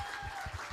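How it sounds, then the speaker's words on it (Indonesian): A church congregation gives a short burst of applause during a first-anniversary Sunday service, faint soft clapping heard from a distance. "Kita beri tepuk tangan dulu."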